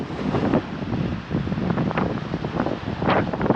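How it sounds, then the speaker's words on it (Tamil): Steady, strong wind buffeting the microphone with rolling sea surf beneath on the coast about 15 km before Rameswaram, surges of crashing waves rising and falling throughout, no voices. "எப்படி காற்றடிக்குது, எப்படி அலை அடிக்குது பாருங்கள்."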